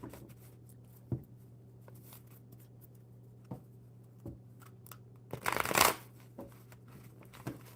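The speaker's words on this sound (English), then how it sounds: "One more good shuffle for Lily." Quiet card shuffling with soft riffles and taps scattered across the clip, building to a brief dense burst near the end, no talking.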